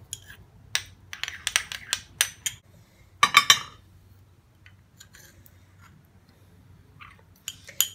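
A utensil clinks and scrapes against a small container while Vaseline and coconut oil are stirred into a homemade eye cream, sharp irregular taps with a denser burst of clatter midway over a quiet background.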